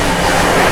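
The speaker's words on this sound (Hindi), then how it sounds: "गाड़ी बढ़िया रफ्तार में भाग रही है" Express passenger train running at speed on an Indian main line, a loud steady broadband rumble and rush of wheels on rail with no talk.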